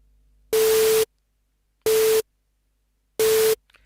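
Three even bursts of synthesized noise layered with a steady sine-wave tone from a Micrologue synthesizer, each about half a second long, separated by silence, loud and clean.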